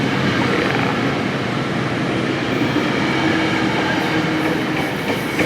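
A Metrolink train pulls out of Simi Valley station bound for East Ventura, a loud, sustained rolling roar with wheel noise and faint squeal close by, with no talking.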